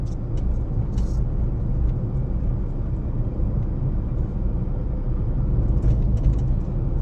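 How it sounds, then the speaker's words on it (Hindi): Inside a manual car cruising in fifth gear, a steady low engine drone and road rumble run evenly throughout, with a few faint rattles and no speech. "दबाओ क्लच, लगाओ फिफ्थ गियर। चलो छोड़ो क्लच।"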